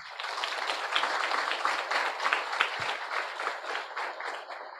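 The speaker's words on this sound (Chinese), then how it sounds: "我们给他们一个掌声" An audience at a study camp's graduation ceremony gives a round of applause, many hands clapping together in a close, lively, continuous burst lasting several seconds.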